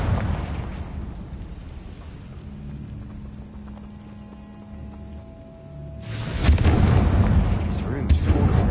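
A Confringo fire spell blasts in Hogwarts Legacy: a sudden loud, broadband explosion erupts partway through and rolls into a rumbling, crackling tail over quieter game ambience.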